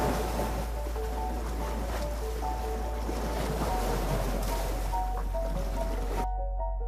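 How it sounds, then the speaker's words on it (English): Ocean waves breaking on the Arabian Sea coast along a sandy Kerala beach, a steady broad wash of surf with wind noise, loud and continuous, with a faint boat-like hum underneath and no talking. "Along the coast, the golden sand stretches endlessly, kissed by the waves of the Arabian Sea."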